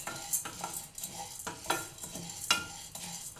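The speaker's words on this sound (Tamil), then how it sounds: "இதையும் சிம்பில் வச்சு தான் வறுக்கணும் கருக்காமல் வறுக்கணும்" Spices for sambar powder dry roast on low flame in a pan, stirred with a few soft metallic scrapes and light rattling taps against the pan over faint background, quiet and close with no talking.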